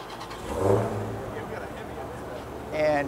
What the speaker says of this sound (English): what you hear rolling up, revving up behind us here is a Hellcat